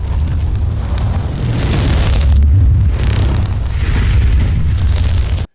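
A fire sound effect for a dragon: a loud, sustained roaring whoosh of flame with a deep rumbling body that swells and surges for several seconds before cutting off abruptly.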